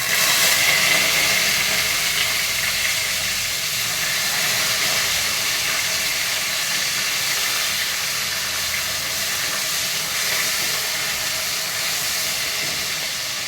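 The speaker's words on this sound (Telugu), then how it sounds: "ఇప్పుడు దీనిలో నేను కాస్త పుదీనా, పచ్చిమిరపకాయలు వేస్తున్నాను." Mint and green chillies sizzle steadily in hot oil in a pan, a continuous close hiss with no talking, while mushroom pulao is cooked.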